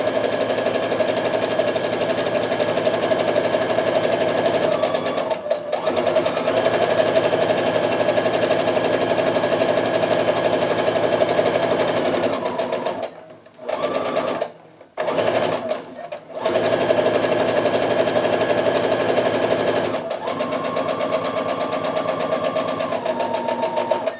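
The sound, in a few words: sewing machine stitching quilt seam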